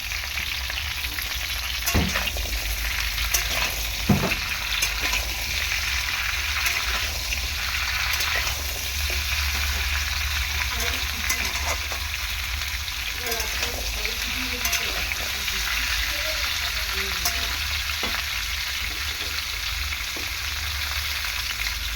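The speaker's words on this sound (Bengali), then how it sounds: "আলু ফুলকপি মোটামুটি ভাজা হয়ে গেছে দেখো ফুলকপিগুলোও ভাজা হয়েছে আর আলুগুলোও ভেজে নিয়েছি" Potato and cauliflower pieces sizzle steadily in hot oil in a pan while cooking khichuri, with occasional clinks and scrapes of a spoon stirring through the continuous frying hiss.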